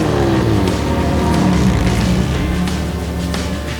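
A classic BMW race car engine at the Le Mans Classic, droning loud and steady at close range with a strong harmonic roar, the pitch shifting slightly as the revs change, with no talk over it.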